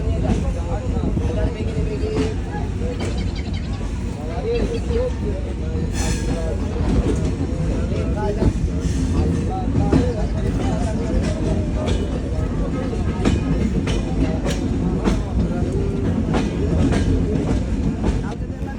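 Bangladesh's Kapotaksha Express intercity train pulls away from Pakshi station, a loud, continuous heavy rumble of wheels on rails with rhythmic clatter and occasional squeals, heard from on board.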